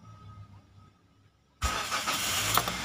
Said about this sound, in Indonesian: Tinggal putar sampai bunyi starter. Bila mesin hidup, langsung lepaskan kunci kontaknya ya.